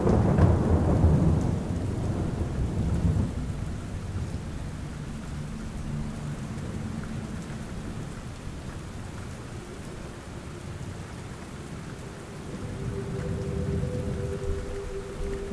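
Steady rain pours onto surfaces while low thunder rumbles, loudest in an opening roll and swelling again near the end, with no voices.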